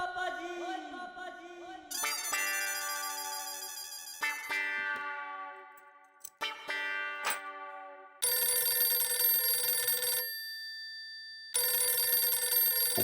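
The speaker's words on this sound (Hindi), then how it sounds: "पप्पू का फोन फिर से।" A telephone rings in a sitcom scene, first among layered musical tones, then in two loud, sustained bursts of bright electronic ringing separated by a short pause.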